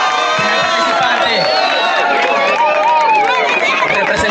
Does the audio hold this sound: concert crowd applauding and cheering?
yes